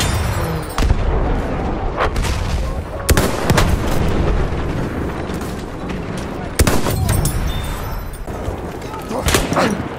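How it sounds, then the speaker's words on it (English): Enemy machine gun fire in the video game Battlefield, with dense, loud bursts of gunfire and booming blasts that continue throughout under a busy battle din. "Machine gun! One of theirs!"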